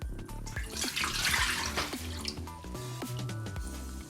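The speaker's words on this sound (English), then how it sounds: "So I'm gonna add the milk into the pot." Milk poured from a container into a cooking pot for a tuna and sweetcorn pasta bake, a close, continuous liquid splashing and gurgling that swells and then tapers off, no speech over it.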